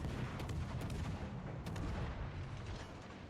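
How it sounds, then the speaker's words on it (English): Naval gunfire in World of Warships Legends, with repeated heavy booms of ship shells being fired in a dense, continuous game soundscape. "as you can tell, we're just lobbing shells at this guy"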